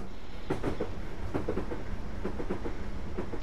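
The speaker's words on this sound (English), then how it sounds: "there's a train going by right there" A passing train in the Train Simulator 2013 video game rumbles past with repeated clickety-clack wheel beats over a steady low rumble, at moderate loudness, with no voices.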